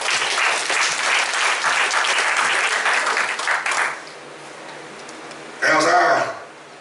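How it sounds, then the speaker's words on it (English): A Missionary Baptist church congregation claps in praise, loud, dense hand clapping that fades out after about four seconds, followed by quiet and then a short burst of speech. "Come on, give the Lord a hand clap of praise."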